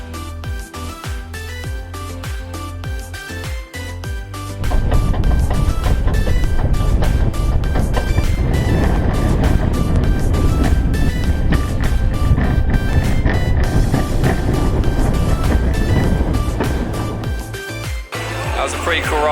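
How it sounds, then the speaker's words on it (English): The Goliath hypercoaster at Six Flags Magic Mountain clatters at first, then breaks into a loud, sustained roaring rush of wind and track noise that eases off toward the end. "That was a pretty cool ride on Goliath, the hypercoaster here at Six Flags Magic Mountain"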